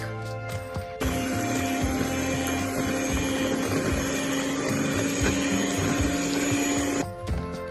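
Vanilla slice custard being whisked until thick, likely with an electric mixer, gives a steady loud motor whir that holds for about six seconds before stopping.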